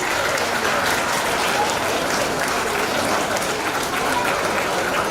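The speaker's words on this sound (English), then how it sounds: "Kindly give them a round sound of applause please." A large school audience at a science expo breaks into loud, continuous applause for class 3 prize winners, a dense and even roar of many hands clapping together throughout.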